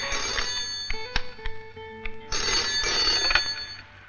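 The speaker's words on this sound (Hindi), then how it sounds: "फोन है।" A telephone bell rings in two bursts with a short gap between them, loud and close, with a few clicks and knocks in the pause.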